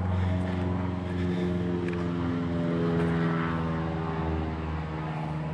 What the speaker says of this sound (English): We got a low-flying airplane.